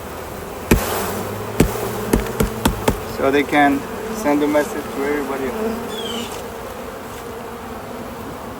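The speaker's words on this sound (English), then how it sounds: "we're gonna just put those bees right on her." A dense buzzing of a honeybee swarm in late October, with several sharp knocks early on and a person talking over the hum.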